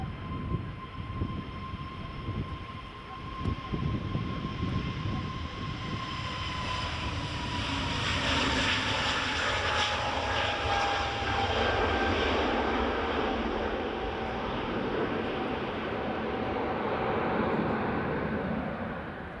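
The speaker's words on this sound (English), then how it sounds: "British Airways A320 Neo just landing now from London" A British Airways Airbus A320neo lands at Edinburgh Airport, its broad engine roar building and holding steady at close range, with a thin whine sliding downward through the approach.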